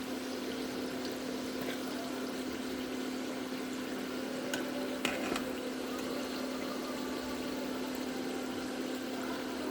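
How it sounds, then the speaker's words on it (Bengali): Pitha cakes frying in a pan, a steady low sizzle with a faint bubbling hiss and an occasional soft clink, no talking. "পিঠেগুলো একটু লাল লাল করে ভেজে নিতে হবে লুটপাট পালট করে ভালো করে ভেজে নেবে পিঠেগুলো"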